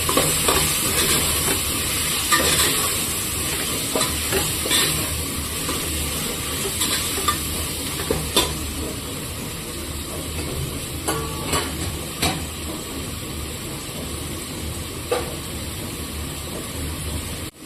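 Fenugreek leaves and tomatoes frying for pulao in a pan give a steady, close sizzle throughout, with occasional scrapes and clinks of a utensil stirring against the metal.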